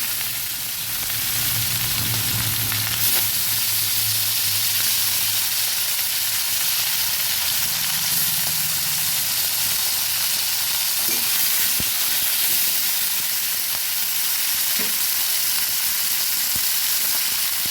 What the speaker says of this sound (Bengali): কড়াইতে তেল দিয়েছি, তেলও গরম হয়ে গেছে। আমি মাছগুলো ভেজে নিচ্ছি।